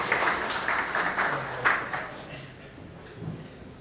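An audience at a medical conference session applauds, a moderately loud, dense patter of clapping that gradually thins and fades.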